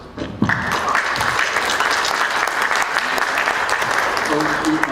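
An audience at a UNESCO WTA event in Tangerang Selatan gives loud, continuous applause, with a voice speaking over the clapping for much of the stretch.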